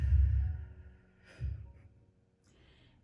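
A person exhales deeply during guided breathing at a church service, one long breath out, then a second breath that is softer and shorter.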